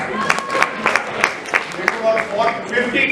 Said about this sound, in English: round of applause for this madam